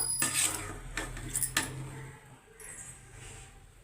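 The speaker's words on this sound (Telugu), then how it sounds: "మెల్లిగా కలుపుకుందాం" Cooked chicken biryani in a pot being gently mixed, a few clinking, scraping strokes of a ladle against the metal pot, close and fairly soft, fading to quiet afterward.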